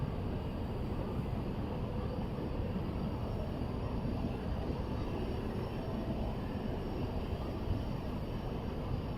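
A new Clarke diesel engine driving a fire pump during a commissioning test, a loud steady continuous roar and drone from close by, unbroken throughout.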